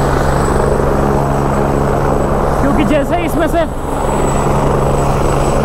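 Helicopter approaching the Kedarnath helipad in the mountains, slowing down as it comes in, its rotor and engine noise running steadily under someone talking nearby.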